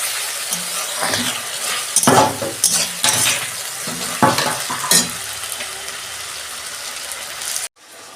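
Ginger-garlic paste being worked into mutton curry in a pan, a spoon scraping and mixing in several bursts over a steady close sizzle of frying, with no voices.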